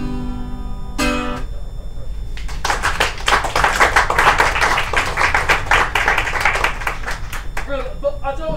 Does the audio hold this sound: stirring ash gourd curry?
no